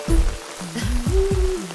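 Heavy rain pours steadily in a Malayalam film comedy scene, a continuous dense hiss beneath low tonal background sound, with no voices in this short moment.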